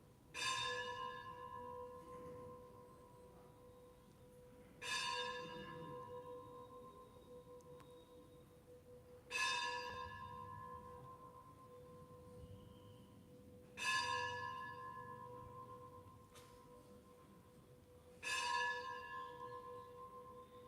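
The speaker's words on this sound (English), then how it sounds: "Does everyone know the significance of these bells ringing?" Five evenly spaced bell strikes, each with a bright attack and a long ringing decay, sounding at a steady slow pace in a quiet room.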